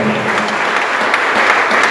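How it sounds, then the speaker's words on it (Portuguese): A church congregation at a Brazilian evangelical service claps together in praise, a dense and steady wash of applause that stays loud and close throughout. "as palmas glorifiquem o nome do Senhor"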